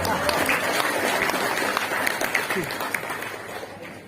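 Applause from a university lecture audience during a humorous academic talk, a dense steady patter of many hands sustained throughout at moderate level, easing slightly toward the end, with voices mixed in underneath.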